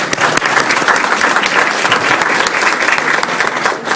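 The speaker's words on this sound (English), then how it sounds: "Another round of applause." Loud, dense round of applause from an audience at a regular business meeting, honoring a high school chamber choir, continuous close clapping throughout with no talk.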